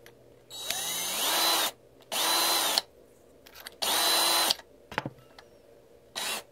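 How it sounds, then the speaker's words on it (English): A power tool deburrs trimmed .223 brass cartridge cases in three whirring bursts of about a second each, with a fainter short burst near the end and quiet gaps between. "So the other thing to do is just do a little deburring action."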